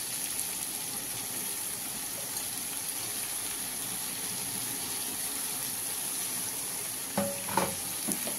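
Eggplant fries in a pan for a vegetable curry cooked without water, a low continuous sizzle and hiss that runs evenly until a few clattering stirs of a spoon near the end.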